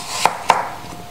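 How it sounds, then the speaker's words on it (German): Two quick knife cuts through bell pepper on a cutting board, crisp close taps about a quarter second apart, then quiet. "Und dann schneide ich da die Spalten runter."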